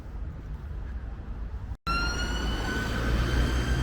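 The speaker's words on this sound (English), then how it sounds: "Emergency ambulance there. In a mad rush." An ambulance siren wails steadily, rising and falling with clear tones over constant traffic rumble, after a brief dropout near the start.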